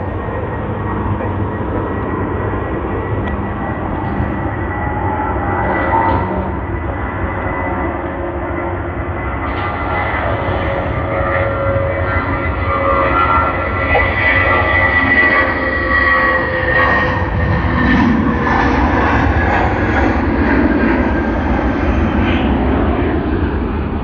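An Air Canada Boeing 787-9 Dreamliner at Sydney Airport gives a loud, sustained jet engine roar that stays steady and near throughout, with a broad rumbling drone.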